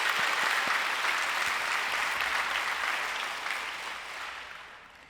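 A church congregation gives sustained applause during a worship service, a full dense wash of many clapping hands that holds steady, then gradually fades toward the end.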